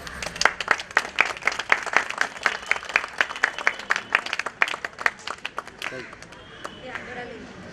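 An audience at a Sardar Vallabhbhai Patel Jayanti celebration claps loudly in a brisk, steady rhythm of sharp hand claps that fades toward the end, with voices talking underneath.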